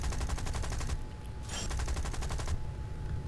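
Lancaster bomber gunner's machine guns firing at a P-51 in a realistic-battle flight game, fast rhythmic bursts of rapid gunfire, loud and close, with a short pause between two long bursts.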